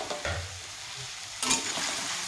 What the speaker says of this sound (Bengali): তো এখন আমি কুমড়োটাকে ভালোভাবে ঘিয়ের সাথে আমি ভাজা ভাজা করে নেব।